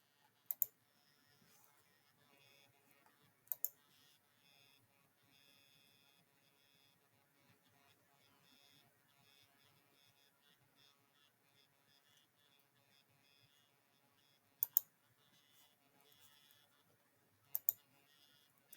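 Computer mouse clicking in GIS software, a few sharp, isolated clicks spaced several seconds apart against near silence, faint and close.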